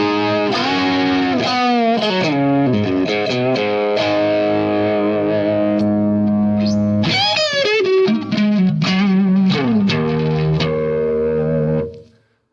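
An electric guitar runs through a Boss GT-8's compressor into overdrive, playing loud, distorted chords and bending lead lines with a dirty, saturated tone before cutting off abruptly, with no voice.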